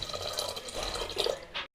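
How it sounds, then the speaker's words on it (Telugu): Water is poured over washed toor dal in a cooking pot, making a short, close splashing and trickling sound that ends abruptly. "పప్పుని శుభ్రంగా వాష్ చేసుకొని వాటర్ పోసుకున్నాం కదా"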